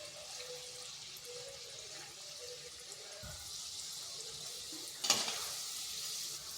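Potato snacks fry gently in oil over slow to medium heat, a faint even sizzle broken by a single stirring clatter near the end.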